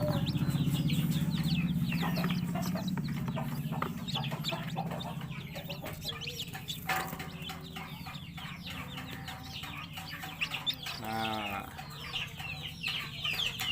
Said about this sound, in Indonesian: anak ayam yang udah saya ambil tadi, yang udah saya pisahkan dari induknya